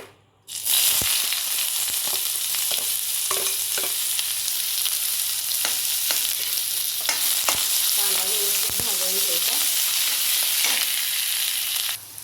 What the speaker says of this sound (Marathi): आता सगळ्यात आधी आपण कांदा घालून घेऊया कढईमध्ये